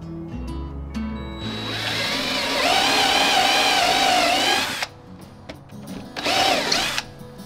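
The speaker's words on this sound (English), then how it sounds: "To mount the struts, I gotta pre-drill some holes a little smaller than the strut bolts." A power drill pre-drills holes for strut bolts on a DIY workbench, whining in a few bursts: a short start, a long steady run and a final brief spin, loud and close.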